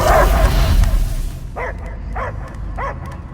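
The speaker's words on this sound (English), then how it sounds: "I hear only barking." Inside the Guardians of the Galaxy video game, a dog barks in a series of four or five rhythmic, mid-pitched woofs after a loud opening burst of game noise, with background effects underneath.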